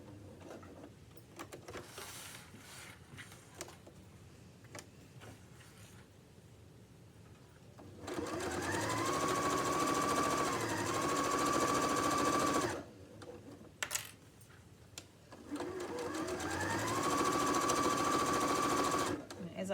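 A sewing machine stitches the two layers of an apron together in two sustained runs of several seconds each, separated by a pause with fabric handling and soft talk before the first run.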